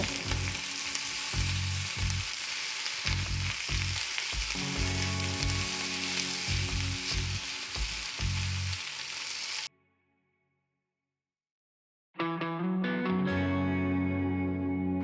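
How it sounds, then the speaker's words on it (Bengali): Soybean chunks and mixed vegetables sizzling in a wok while being stirred, loud steady frying with rhythmic scraping, then a short silence before tonal sounds enter. "সবজি ভাজা হয়ে গেলে তার মধ্যে সয়াবিনটি দিয়ে আরও কিছুক্ষণ নেড়ে চেড়ে ভেজে দেব।"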